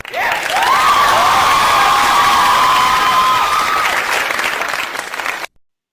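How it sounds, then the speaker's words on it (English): A game show audience applauds and cheers loudly for the contestants, with whoops and excited shouts in a sustained burst that cuts off abruptly near the end. "Let's have some applause for our contestants."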